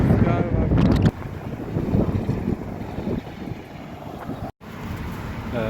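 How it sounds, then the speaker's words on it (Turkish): Strong wind on a bridge over the river near Petrovaradin Fortress in Novi Sad buffets the microphone in loud, continuous rushing gusts with one brief dropout, and a voice speaks under the roar. "Aşırı rüzgar var."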